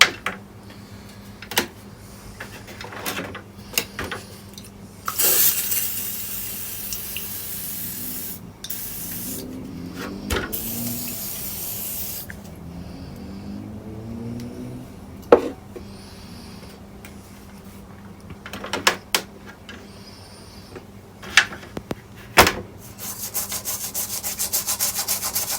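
Parts from an HMV valve record player, Model C1-81, are scrubbed and rinsed with water, giving quiet rubbing and brushing strokes, splashy sprays and scattered knocks, close and uneven.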